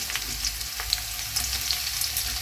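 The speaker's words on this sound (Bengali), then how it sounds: "এটাকে ভালো করে একটু ভেজে নেব তেলের মধ্যে" Crushed garlic frying in hot oil in a home kitchen, a steady close sizzle with small crackles and pops and no talking.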